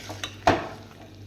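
Chicken being stirred in a pan for kosha: a couple of brief scraping stir strokes with a low sizzle under them, one stroke sharper and louder than the rest.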